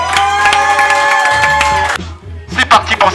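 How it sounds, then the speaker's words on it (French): An audience at a New Year beer-sport battle event applauds and cheers after an introduction, a brief burst of crowd noise and shouts following music that cuts off, with a voice talking over part of it. "On l'applaudit, s'il vous plaît."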